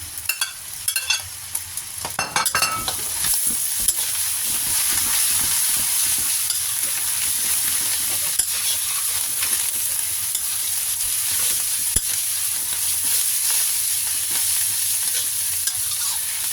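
Duck being stir-fried with mixed vegetables, sesame oil and soy sauce for a curry-powder glass noodle dish, a steady close sizzle with scraping and tossing of a spatula in the pan throughout, no talking.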